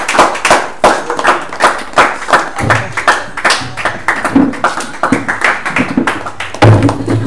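An audience at a contestant's introduction claps in a rhythmic, fairly close burst of applause, sharp hand claps repeating steadily for several seconds, with a few low thumps underneath.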